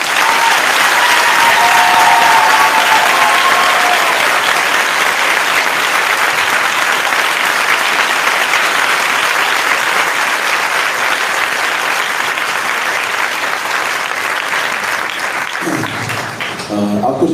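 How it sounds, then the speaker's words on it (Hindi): A church congregation applauds for Jesus in a dense, sustained roar of clapping that runs loud and unbroken for many seconds before tapering at the end. "कि यीशु के लिए अच्छी ताली बजाएंगे"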